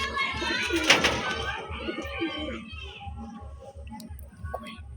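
Pigeons coo close by in a steady, repeating low rhythm, with a brief burst of sharper sounds near the start.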